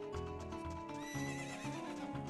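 A horse in the video game The Legend of Zelda: Ocarina of Time whinnies loudly over clip-clopping hooves and game music, a bright rising neigh standing out midway through the steady rhythmic trot.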